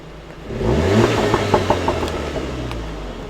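A hot hatch's engine revs hard through its exhaust, the note rising and surging across a few seconds and fairly loud and close, with a steady rumble underneath.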